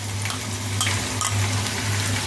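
Ginger garlic paste sizzling in a pan with frying onion, a steady crackling hiss with soft pops and a low burner hum beneath, close and even throughout.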